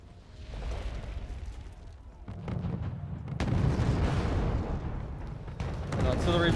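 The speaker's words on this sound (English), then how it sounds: "Artillery being brought in terms of 4 LAVMs, annihilating that infantry squad" Heavy artillery barrage in the video game Wargame Red Dragon from four LAVM vehicles, a dense rumbling roar of low booms that swells louder through the clip, with someone talking over it.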